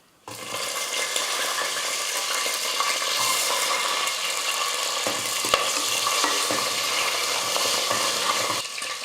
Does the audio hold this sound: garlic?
yes